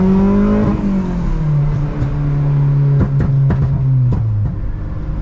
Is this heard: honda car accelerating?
yes